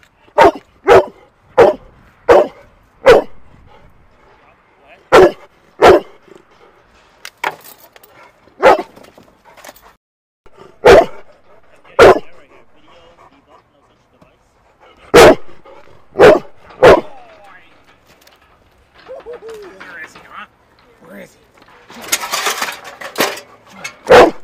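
A disaster search dog barks in repeated sharp bursts, single loud barks spaced irregularly with short pauses between them, close by, ending with some scraping and rustling.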